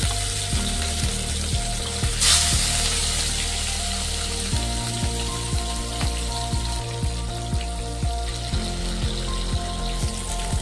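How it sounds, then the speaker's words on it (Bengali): Rohu fish frying in hot mustard oil, a steady bright sizzle with a sudden louder burst early on, then a regular series of soft knocks under the hiss, close and continuous, no voices. "তেল গরম হয়ে গেছে, এখন মাছগুলো দিয়ে ভেজে নেব"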